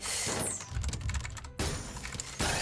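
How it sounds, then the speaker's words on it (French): Close, clicky keystrokes on a mechanical keyboard, typed in quick irregular bursts with brief pauses between them. "Bon après c'est un clavier mécanique aussi."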